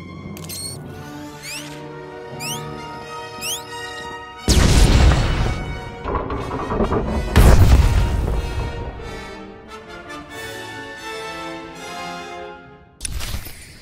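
A large explosion destroys the Crane in the video game SWTOR, heard as heavy booming crashes with rumbling debris layered over sustained musical tones, two main blasts a few seconds apart and a final sharp hit at the end.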